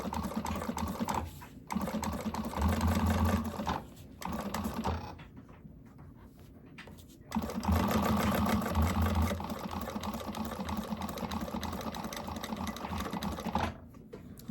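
Sewing machine stitching a zipper into fabric, running in steady bursts with brief pauses between, close and fairly loud, with no talking.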